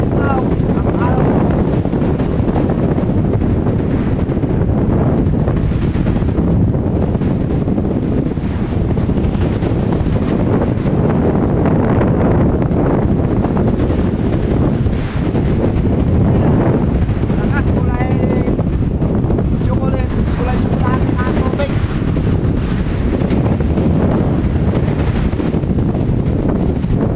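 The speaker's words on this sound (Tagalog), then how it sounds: "Wow, ang alon." Big waves crashing in strong storm wind on a typhoon-battered coast near Baguio, a loud roaring surf with heavy wind buffeting the microphone throughout, and a voice briefly audible under the din.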